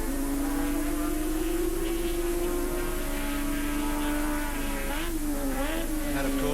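A sidecar racing motorcycle with a big four-stroke engine winds out along the straight at Oran Park in a 1986 race: a loud, sustained engine note that climbs steadily, then wavers as it shifts.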